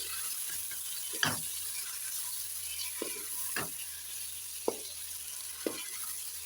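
Chicken frying in a pan for green chilli chicken, a steady soft sizzle hissing throughout with a handful of sharp scraping stirs standing out, close but fairly quiet.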